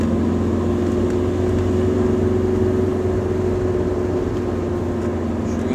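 A diesel car engine labours up a slope, a loud steady drone with a strong low hum that holds for the whole stretch, with no talk over it.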